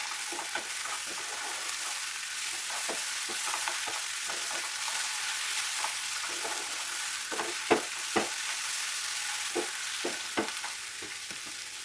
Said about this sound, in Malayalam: ഉപ്പ്, ഇഞ്ചി വെളുത്തുള്ളി പേസ്റ്റ്, ഇതെല്ലാം കൂടെ നല്ലതുപോലെ മിക്സ് ചെയ്യും.